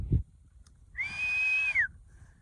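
A single sustained human whistle used as a sound cue for mustering cattle, clear and steady for about a second outdoors, with a short thump just before it.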